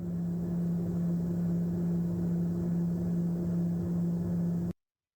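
An unpressurized propeller aircraft drones steadily in flight on the way to a Nepal trek, with a constant low engine hum and cabin roar that cuts off abruptly at the end.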